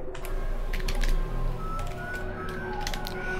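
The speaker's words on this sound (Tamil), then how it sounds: "ஸோ கமெண்ட் டைப் பண்ணியாச்சு." Keys clatter on a computer keyboard as a command is typed into the Windows command prompt: a handful of quick, crisp clicks in uneven bursts over a steady background hum, with no talk.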